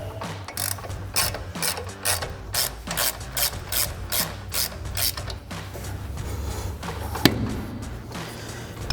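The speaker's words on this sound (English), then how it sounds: "take my 1/2 inch drive now with my 18 millimeter on it and just ratchet this out the rest of the way" A 1/2 inch drive ratchet fitted with an 18 mm socket, turning a bolt out during a front coil spring lift install on a Ford F-250: a rapid run of close, crisp clicking strokes, then a single sharp knock.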